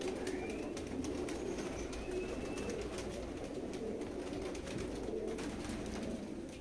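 Pigeons of several varieties coo and call in a loft kept for sale, a steady low murmur of cooing with occasional higher bird calls under constant background noise, no talking.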